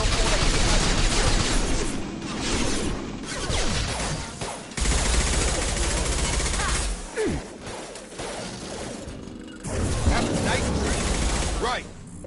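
Reprogrammed colony security systems open fire in Mass Effect 2, loud bursts of automatic gunfire mixed with crashes and whooshes, coming in waves with brief lulls; voices speak over parts of the barrage.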